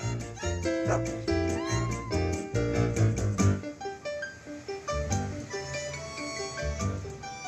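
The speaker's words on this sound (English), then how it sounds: "And the little kitten licks Dot's nose" A kitten mews a few times over bright, busy background music, the cries short and high-pitched amid the melody.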